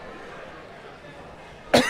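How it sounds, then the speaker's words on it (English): A single short cough from a sports broadcast announcer at a Pekin Panthers high school football game sounds close and loud at the very end, after a stretch of quiet room noise. "as I cough right in mid-broadcast"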